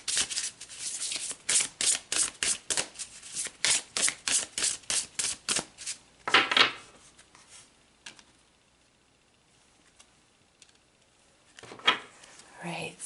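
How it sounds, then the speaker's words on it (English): Oracle cards being shuffled and drawn: about a dozen rapid, crisp riffling flicks in a steady rhythm, then a soft rustling shuffle, a quiet pause, and another brief card rustle near the end, close and clear. "let's pull another card"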